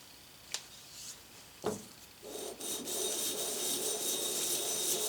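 Brand-new 500-grit wet-or-dry sandpaper rubs across a metal part for a toolmaker's vise. A couple of separate scrapes come first, then a steady, close rasping stroke continues to the end.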